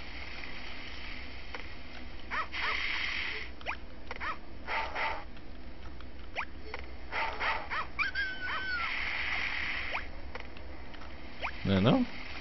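Video game dog giving short barks, yips and whimpers scattered over a steady hissy background, with a voice talking over it.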